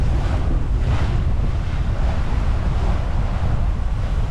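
A sailboat cruises at over 8 knots in about 15 knots of wind, a loud, steady roar of wind buffeting the microphone over rushing waves and surf, continuous with no talking.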